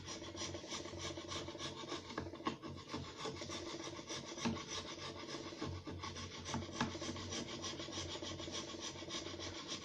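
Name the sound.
scraping with a screwdriver ground flat as a scraper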